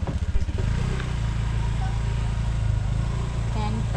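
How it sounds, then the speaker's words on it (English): Motorcycles and light vehicles at a roadside parking area in a bamboo forest in Northern Cebu, with a steady low engine drone and clatter passing close by, nearly continuous after a choppy start. "Lots of motorcycle."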